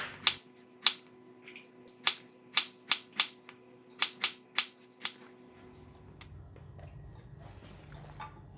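A knife slices through luffa, three pieces at a time, on a cutting board: a series of about a dozen sharp, crisp chopping knocks in an uneven rhythm, close up, before fading to quiet kitchen background.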